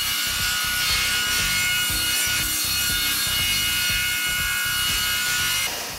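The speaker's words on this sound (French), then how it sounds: "Je découpe dans une autre planche de contreplaqué les nouvelles lattes qui serviront à faire les autres côtés du casier." Plywood slats being cut from a plywood sheet with a saw, a steady, close and loud rasping cut with rapid regular strokes running throughout and easing off near the end.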